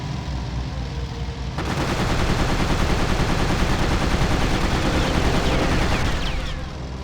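Sustained heavy gunfire aimed at British destroyers in the World War II flight game Secret Weapons Over Normandy: a loud, dense, continuous roar of rapid shots that starts abruptly, holds for several seconds and then stops, with no talking.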